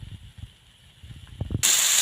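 Vegetables dropped into a hot pan burst into a loud, steady sizzle that starts abruptly near the end, after some faint clattering and handling noises.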